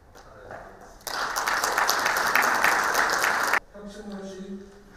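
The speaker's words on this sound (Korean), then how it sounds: "뜨거운 박수" Audience applause at a public-agency heads' council meeting for an innovation city, a dense burst of clapping that starts abruptly, stays loud and steady for about two and a half seconds, then cuts off as talk resumes.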